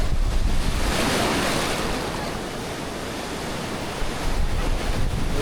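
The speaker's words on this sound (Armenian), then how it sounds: "Եկավ ալիքներն եկան, չեն է թողում նկարում։" Ocean waves crash and wash onto the shore in a steady, full roar, with wind buffeting the microphone throughout.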